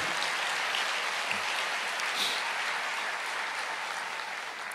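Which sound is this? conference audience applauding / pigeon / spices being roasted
conference audience applauding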